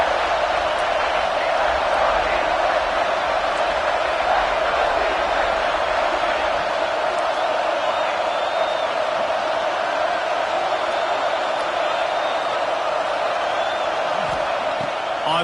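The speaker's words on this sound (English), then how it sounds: "how nice is it to have the home crowd going absolutely bananas" A home football crowd roars in a sustained, dense wall of cheering at a college stadium game, with whoops and shouts rising out of the loud, continuous din.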